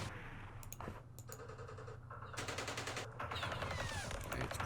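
Gunfire in a Vietnam-era Mekong battle from the Campaign Series Vietnam game, aimed at a sniper position, plays as bursts of automatic rifle fire and sharp single shots, fairly quiet and layered over a low background hum.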